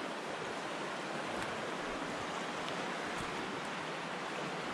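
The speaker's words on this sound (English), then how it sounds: "Some fast moving water, folk." Fast-moving water of the James River rushes past, a loud, steady broadband roar of churning current with no pauses, heard up close.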